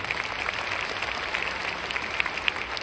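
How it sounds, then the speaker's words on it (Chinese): Applause for Miss Angie at a church gathering: dense, steady clapping from a crowd with a few sharper claps standing out, fairly quiet and continuous throughout. "所以我们给 Miss Angie 一个热烈的掌声"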